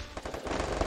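Rapid automatic gunfire from a mobile shooter video game rattles in a fast, dense burst of shots, loud and continuous over the short moment.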